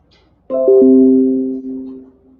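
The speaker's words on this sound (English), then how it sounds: "you done already rang the bell" A two-tone doorbell chime rings out loud and clear, the tones stepping down and sustaining for about two seconds before fading, alone with no talk.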